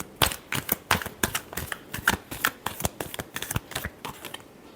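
Tarot cards being shuffled in a rapid series of crisp riffling bursts, about a dozen sharp slaps and flutters in steady rhythm, close and clear with no talking.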